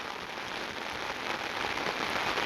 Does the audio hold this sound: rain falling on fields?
yes